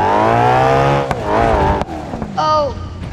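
A car engine in the driving game BeamNG.drive revs hard and loud, its harmonic roar rising and falling through several throttle bursts, with a brief higher-pitched whine toward the end.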